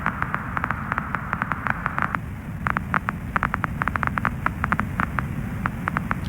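Storm sound effect run through vinyl distortion: a steady broadband hiss and low rumble with dense crackling pops scattered throughout, heard alone with no voices.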